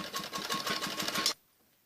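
A sewing machine stitches piping along the edge of a kameez neck, a fast, even run of mechanical clatter for just over a second before it stops abruptly into near silence.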